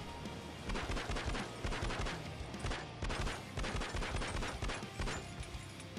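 Rapid, loud gunshots fired in the video game SWAT 4, a dense run of sharp cracks in quick succession at close range, with a short pause midway.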